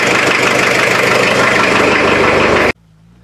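A van's LS engine warming up drones in a loud, steady idle with a rough, knocking rumble, then cuts off abruptly near the end.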